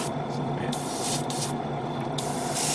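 Orange paint hisses from a spray nozzle onto a 1/100 Master Grade Zeta Gundam Ver. Ka model kit in steady close bursts, broadband airy spray pulsing on and off over a constant low motor hum.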